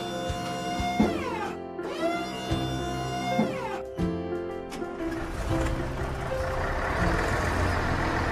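A cartoon tow truck reverses to haul away an old car, giving loud repeated reversing beeps over a rumbling engine, with music-like tones and a busier mechanical wash toward the end.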